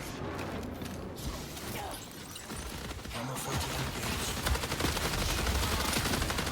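Gunfire from the sci-fi shooter Marathon, a dense run of shots and mechanical clatter building toward the end, heard in a busy game mix with no clear talk.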